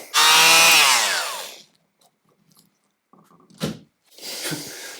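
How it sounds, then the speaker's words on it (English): A power saw cuts material during an off-grid homestead build: one loud, rasping cut of about a second and a half that tails off. Quiet follows, with faint clatter and a single nearby knock, then some rustling handling noise. "Right, where's that saw gone?"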